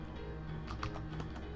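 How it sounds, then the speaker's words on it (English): Keys clatter on a computer keyboard during a video game session, a quick run of soft, close clicks over steady background hum with no voices. "I'm not using my controller. I'm using my freaking my keyboard."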